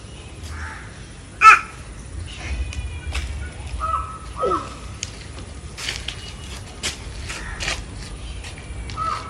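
Crow in a home courtyard giving a loud caw near the start, followed by a few fainter calls and light rustling against a quiet outdoor background.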